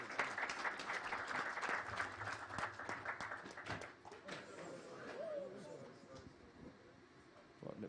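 Audience applause follows the chairman's speech at the Safaricom Sacco 20th anniversary event. Dense clapping holds steady for several seconds, then thins into scattered claps under a murmur of voices.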